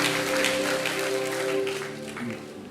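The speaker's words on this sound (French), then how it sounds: "Acclame." A church congregation applauds, a soft, continuous patter of many hands under a sustained organ or keyboard chord, gradually tapering toward the end.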